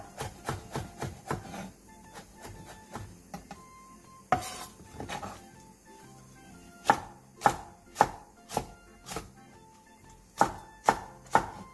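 A kitchen knife slices onion into strips and cuts green onion and green and red chili peppers diagonally on a cutting board: sharp, close chops in quick runs and spaced single strokes, with brief pauses between.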